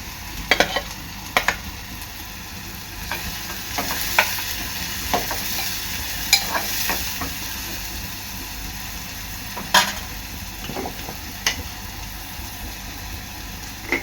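Onion and green chilli hit hot oil in a pan and sizzle steadily with a constant hiss, broken by occasional sharp clinks and scrapes of stirring, heard up close.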